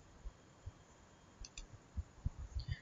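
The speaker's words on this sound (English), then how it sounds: "click on Home tab" Computer mouse clicks on a Windows 10 PC running MS Paint: a couple of faint, quick double clicks, then a few soft taps in an otherwise quiet room.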